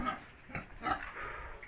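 Pigs on a farm give a few low, rough grunts in short bursts, fairly faint and close together, with no one speaking over them.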